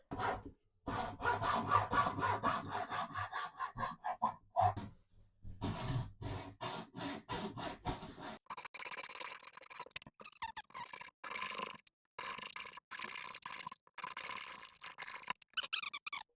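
A sanding pad is rubbed against a facia panel while bus wires and a power unit are being fitted. Repeated scratchy strokes come in bursts with short pauses, close and fairly loud.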